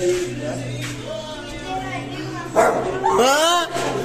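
A dog barks and yips loudly a few times near the end, after steady talking with a low hum in the background.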